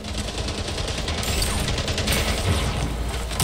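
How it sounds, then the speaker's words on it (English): Rapid SMG fire in the video game Splitgate: a loud, continuous rattling burst of automatic shots with mechanical clatter, sustained throughout at close range. "Eat my SMG!"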